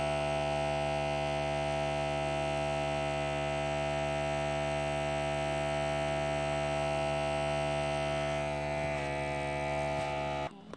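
A tattoo machine buzzes in a tattoo shop with a steady, even electric hum that holds unbroken for about ten seconds, close and moderately loud, with no talking.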